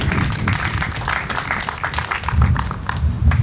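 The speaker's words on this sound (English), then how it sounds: "give another round of applause to Jay and the entire board" An audience applauds at a baseball league opening ceremony in Saipan, a steady close patter of many hands clapping that swells slightly toward the end.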